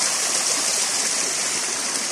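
Cold, clear water rushing in a stream through a forested spot, a constant full hiss with no pauses, close and fairly loud.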